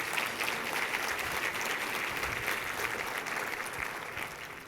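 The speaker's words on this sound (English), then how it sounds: "I'd like everybody to give the Chamber a round of applause" An audience at a leadership symposium keynote claps steadily in sustained applause, a dense crackle of many hands that fades slightly toward the end.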